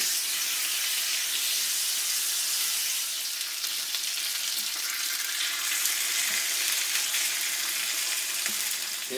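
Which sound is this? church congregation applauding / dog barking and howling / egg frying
egg frying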